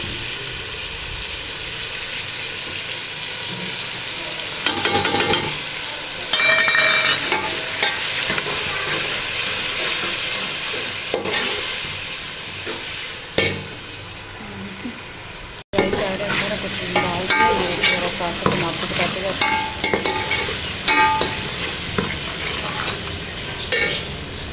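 Spice masala is added to mutton in a pot and fried, with loud bursts of sizzling as it hits the hot fat, then steady frying under repeated stirring and scraping clatter, close and busy, without speech.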